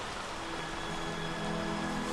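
Rain falls in a romantic movie scene, a steady dense hiss of downpour with a faint low hum beneath, even and fairly loud with no talk.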